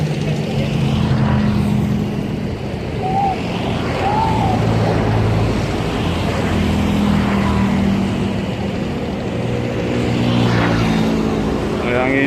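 A coal barge tug on the Mahakam river drones with a steady low engine rumble that runs throughout, with faint wash and distant activity layered over it.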